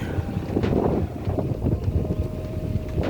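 Strong wind buffets the microphone in steady, rumbling gusts, a low roaring blast that fills the whole clip.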